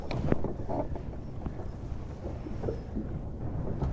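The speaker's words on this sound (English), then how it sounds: "Boy, that wind." Gusty wind buffets the microphone on a cold winter day out bass and striper fishing, a steady rumbling roar with irregular low thumps and no talk.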